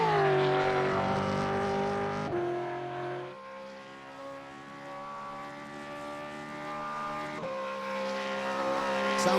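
A race car in the iRacing simulator skids with a tonal tire squeal over a droning engine whose pitch steps and shifts, steady and moderately loud throughout.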